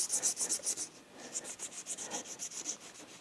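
A scrub pad rubs back and forth along a bike dropper post, a rhythmic series of soft scratchy strokes close up, pausing briefly midway before the rubbing resumes.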